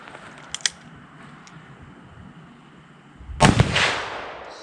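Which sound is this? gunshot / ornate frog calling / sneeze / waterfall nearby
gunshot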